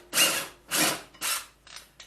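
A DeWalt DCF866 impact driver with a 5/8 socket works on the blade bolt of a Toro TimeMaster lawn mower, firing four short, close rattling bursts with brief pauses between them, the last one shorter.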